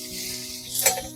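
Water poured onto sugar in a hot kadai for a raw mango pickle syrup, giving a soft steady sizzle with a brief louder hiss and faint clink near the end.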